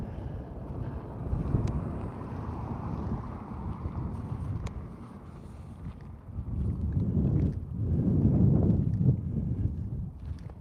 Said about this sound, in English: It's getting windy out here though.